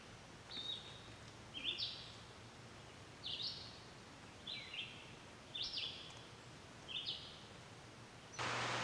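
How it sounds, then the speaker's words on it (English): Birds sing outdoors in a quiet setting, with about six short, bright chirping phrases spaced a second or so apart over a low hum, followed by a brief rustle at the end. "hear the birds."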